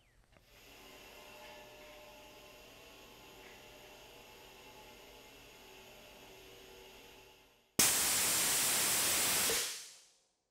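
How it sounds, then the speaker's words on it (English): Anderson Greenwood Series 80 pressure relief valve set at 250 psi, first a low steady hum of pressure building, then a sudden loud pop into a roaring gas blast that lasts about two seconds before the valve reseats and the sound cuts off cleanly. "let's pop this valve one more time to show that my adjustment didn't affect the 250 psi set pressure of the valve"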